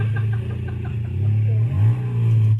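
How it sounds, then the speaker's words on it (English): A motorcycle engine in a speed run drones loud and close, its pitch wavering, then climbing as it accelerates before cutting off abruptly at the end, with no speech. "So just watch this, listen to the motor through here."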